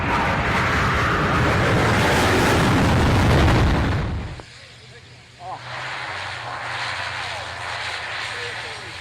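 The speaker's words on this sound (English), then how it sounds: "Takeoff of that tornado, beautifully painted up." Beautifully painted German Air Force Tornado jet taking off from runway 27: a loud roaring engine blast for about four seconds that drops sharply away, followed by a fainter distant rumble with talk over it.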